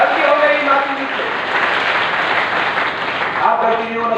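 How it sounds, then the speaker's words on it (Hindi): Applause from an audience at a live religious gathering at Pandokhar Dham, a broad, steady wash of many hands clapping continuously, loud and fairly close, with crowd voices mixed underneath. "सुधार के नाम पर सब लोग ताली बजाकर तो खुशी करिए।"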